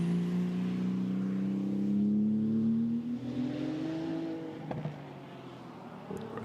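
A Porsche GT2 race car runs through Bruxelles at Spa in heavy rain, its engine note loud and close, rising steadily in pitch as it accelerates, then easing off near the end.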